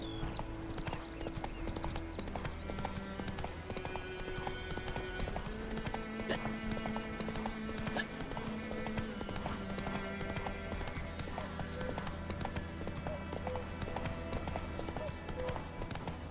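Steady horse hooves clip-clop at a walking pace in The Witcher 3, a soft rhythmic patter beneath the game's music, quiet overall.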